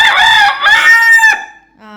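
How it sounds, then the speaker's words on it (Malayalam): Rooster crowing close by, one long loud harmonic call lasting over a second with a brief break partway through, then a soft cluck at the end. "നിന്റെ ഒരു ക്ലോസപ്പിലെ കൂവല് കിട്ടാൻ വേണ്ടി ഞാൻ ഇങ്ങനെ നിൽക്കണം"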